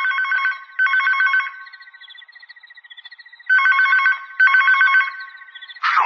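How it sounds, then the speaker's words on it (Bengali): A telephone in a radio drama rings at night in bright trilling bursts, two rings, a pause with a fainter buzz, then two more, clear and alone. "টেলিফোনটা বেজে উঠল।"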